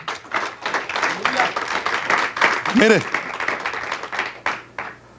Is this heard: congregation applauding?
yes